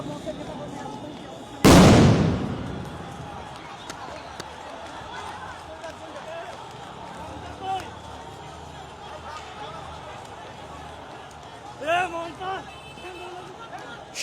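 A police sound grenade bursts at a street protest in Shahbag, one loud sharp blast early on that rings out and decays over a second, followed by crowd noise, distant shouts and a news reporter talking throughout.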